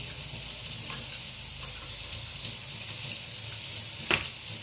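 Kitchen tap water running steadily while raw chicken wings are rinsed in a sink, a continuous even hiss with a faint clatter near the end.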